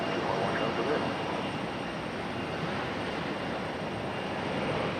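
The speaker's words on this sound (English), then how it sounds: "Air Canada on the move." An Air Canada airliner moving at Raleigh-Durham International Airport, a steady, fairly distant jet engine roar holding at an even level throughout with no clear change.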